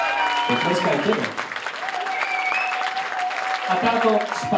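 Concert audience at a band show in Třebíč claps and cheers, a sustained crowd roar with whistles and shouts running under someone speaking over a microphone.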